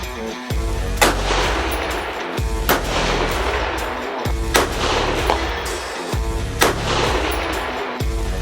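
A custom-built hunting rifle fires on an elk hunt: several loud, sharp shots about every one and a half to two seconds, each with a deep booming tail rolling on between them.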